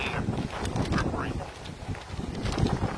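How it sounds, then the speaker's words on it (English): Wind blows steadily outdoors, a broad rushing noise buffeting close to the microphone throughout, with a voice talking over it. "It's windy out here"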